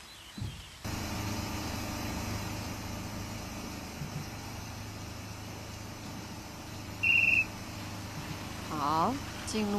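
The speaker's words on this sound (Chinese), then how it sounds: "裁判吹哨了。" A referee's whistle gives one short, clear blast at a national water ski team selection contest. It cuts through a steady drone of tow boat engine and outdoor noise.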